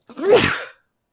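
A single sharp human sneeze, short and close, with no talking around it.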